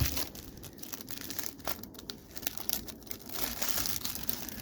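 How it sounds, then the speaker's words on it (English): A 1990 Fleer football card rack pack being torn open, close crinkling and ripping of the plastic wrapper in quick bursts, fairly quiet. "let's get pack number 2 ripping here"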